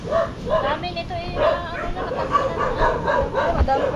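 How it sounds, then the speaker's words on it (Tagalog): Dogs bark and yip repeatedly at people beside a large hole outdoors in the Philippines, the rapid overlapping barks steady and fairly close. People talk over the barking throughout. "Tinatahulan tuloy tayo ng aso."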